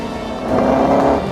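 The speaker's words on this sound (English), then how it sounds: "the sound of its thunderous 3-litre straight-8 engine" Stirling Moss's racing car with a thunderous 3-litre straight-8 engine roars through London streets, a loud, brief engine blare that swells in the middle and eases slightly at the end.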